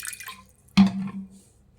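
About two tablespoons of water go into a cooled oil tempering for curd sambar: one short splash and gurgle midway, near and clear, then a brief ringing tail fading into quiet, with no talk.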